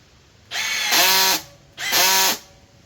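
A Milwaukee M12 FUEL or DeWalt 12V cordless drill runs in two short bursts, each about a second long with a whining motor pitch, close and loud with a brief pause between.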